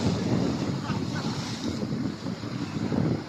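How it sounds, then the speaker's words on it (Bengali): Ocean waves roll and wash against the seashore under strong gusting wind that buffets the microphone, a dense continuous roar with no voices. "আজকে প্রচুর ঢেউ"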